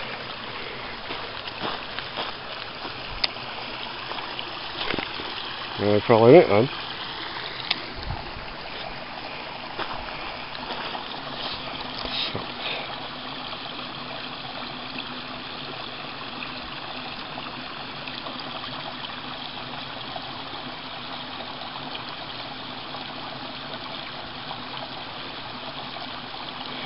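A small stream on a west Pennines upland walk, about 340 metres above sea level, gives a steady close trickle and burble throughout, with a few footsteps and brief rustles early on and a short spoken remark.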